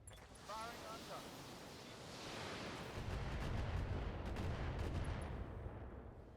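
Missiles launching in the BattleTech mech combat game, a rushing roar of volleys that swells and rumbles into dense impacts, loud and sustained.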